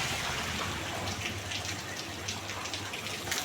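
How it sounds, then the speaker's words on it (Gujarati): Rain falling outside a shop, a steady soft hiss with scattered patters of drops on surfaces, fairly faint and continuous, with no voices. "બહાર વરસાદ ચાલુ થઈ ગયો"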